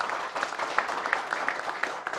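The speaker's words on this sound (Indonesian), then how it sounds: "Tepuk tangan sekali lagi untuk kita semua." Applause from a studio crowd on an Indonesian football talk show, a steady wash of many hands clapping at moderate level with a few sharper individual claps, no voices over it.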